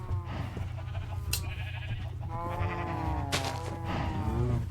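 Several sheep bleat in a Minecraft world, overlapping wavering calls from a small flock close by, repeated across the stretch over a low steady background hum.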